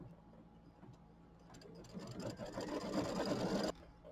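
A sewing machine stitches a small hexagon shape while quilting a mini quilt, giving a soft rapid mechanical chatter that rises in speed and loudness, then stops abruptly, heard close and alone.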